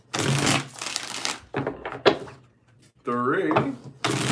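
Tarot cards are shuffled in bursts of riffling, papery rattles during a reading, the deck worked in separate rounds with short pauses between them, and a person speaks briefly in a gap.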